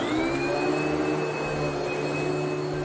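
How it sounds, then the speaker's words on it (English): A Hoover household vacuum cleaner runs at a steady, loud whine with a constant motor hum and airy rush, unbroken throughout with no talk. "Hoover Vacuum."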